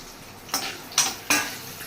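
Cashews sizzle in hot ghee in short crackling bursts, about four surges of frying noise over a low steady hiss, close by.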